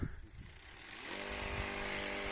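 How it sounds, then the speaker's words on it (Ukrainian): A homemade lawn mower's small engine starts with sputtering bursts, then settles into a steady, loud, close buzzing drone. "Це газонокосарка, я її сам зробив."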